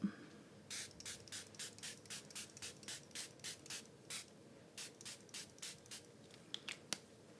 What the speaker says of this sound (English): I actually need to spray these to activate them a little bit.